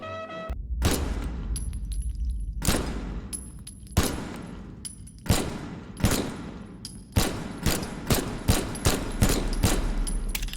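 Modded modern firearms fire in a Fallout game, loud close gunshots with sharp reports and echoing tails, first spaced single shots, then faster regular bursts.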